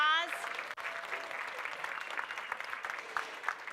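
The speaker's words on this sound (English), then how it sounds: "let's give the mariachi band here at Franklin High School a round of applause." An audience at Franklin High School gives a mariachi band a round of applause, with dense, steady clapping filling the room throughout and a brief tonal flourish at the very start.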